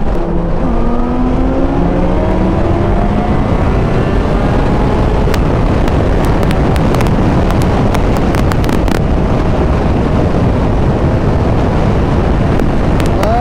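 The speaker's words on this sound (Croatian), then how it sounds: "Motor je dosta tih, većina njegovog zvuka kojeg ima dolazi iz mašine." Steady engine drone of a 2008 Suzuki GSR 600 motorcycle while riding, heavily mixed with loud wind buffeting across the microphone throughout, with no voices.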